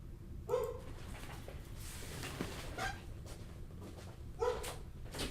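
A dog barks indoors in a few separate bursts, a short double bark early, one mid-clip and another near the end, fairly faint against steady room noise.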